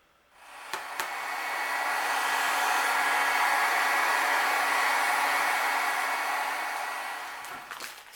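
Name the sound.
heat tool heat-setting clear embossing powder on a card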